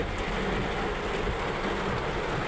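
Sudden rain in Kuwait, heard from indoors as a steady, even hiss of falling water with no breaks.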